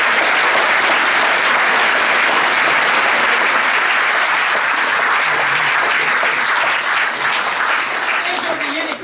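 A theatre audience at a 2014 Harmonie du Lude show applauds in a loud, sustained wash of clapping that holds steady throughout.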